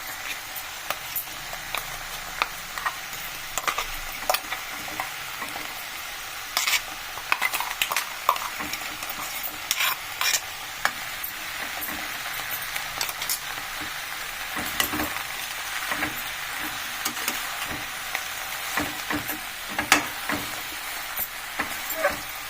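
Steady sizzling of eggplant and fenugreek leaves frying in a pan, with frequent scraping and clinking of a spoon stirring throughout.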